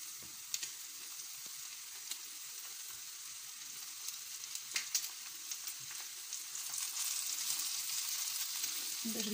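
Fried sausages in a pan as tomatoes go in, a soft steady sizzle with scattered crackles and clicks that grows slightly louder toward the end, no voices.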